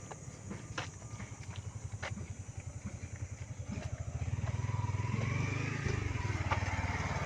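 A small motorcycle on a village road rumbles nearby with a rapid pulsing engine beat, growing louder and closer toward the end, with no talk over it.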